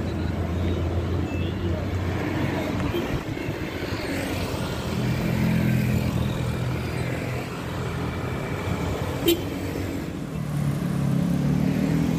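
Buses passing on an Indonesian road, including a Wiji Lestari bus from Bojonegoro and a Bagong bus on the Surabaya–Blitar route: a steady engine roar swells and fades as they go by nearby, with a brief horn blip and talk over it.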